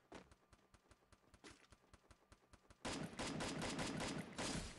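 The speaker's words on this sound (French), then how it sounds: "Ah, ça tire là-bas." Gunfire in the battle royale video game Garena Free Fire: a steady, rapid train of sharp shots at moderate distance, then a louder, denser burst of overlapping fire in the final two seconds.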